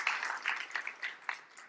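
Church congregation applauding during a sermon, a dense wash of many hands clapping at steady volume throughout, with no voices over it.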